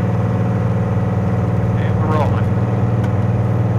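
Light aircraft engine droning loud and steady during the takeoff roll, a constant close-up hum with a voice speaking over it.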